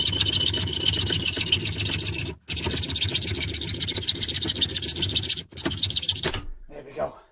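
A power saw fitted with a brand-new, freshly oiled blade cuts through a steel gas cylinder, giving a loud, steady grinding whine that breaks off twice for a moment, then fades out at the end.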